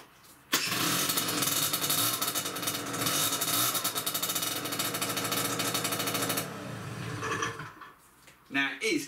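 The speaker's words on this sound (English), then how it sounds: "now it is a noisy exhaust," Speedfight 2 50cc moped scooter with a noisy, patched exhaust, its small engine bursting into a loud rattling idle that runs for about six seconds before cutting out, followed by a brief knock.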